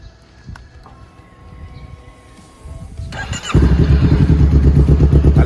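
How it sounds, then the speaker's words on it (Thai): A 2018 Honda CBR500R engine starts and settles into a loud, steady idle after a few seconds of quieter mechanical noise. "ฟังเสียงเครื่องยนต์"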